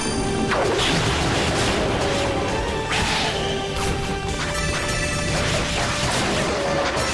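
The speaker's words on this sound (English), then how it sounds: "There's just a little more smashing of red enemies around here" Repeated smashing hits and whooshing swings as red enemies are struck in the action RPG Ys Origin, loud and continuous over a busy game soundtrack, with sharp impacts scattered throughout.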